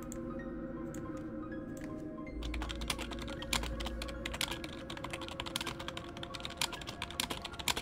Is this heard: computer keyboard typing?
yes